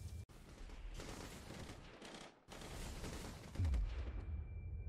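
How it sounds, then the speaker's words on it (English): Dense, continuous gunfire and bullets whizzing past in a Flash superhero video game, a loud rattling barrage with a brief cut near the middle and heavy low booms toward the end. "we got bullets flying past them"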